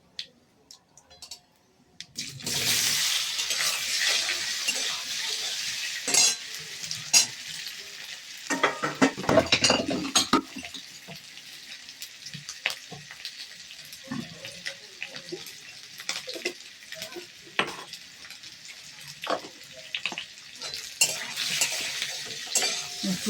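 Cut potatoes frying and being stirred in a pan at home, with a steady sizzle and repeated scraping and clinking of a utensil, plus a brief burst of water near the middle.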